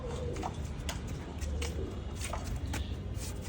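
Soft, low cooing from pigeons in a tree repeats faintly behind a steady outdoor background hum, with a few light bird chirps mixed in.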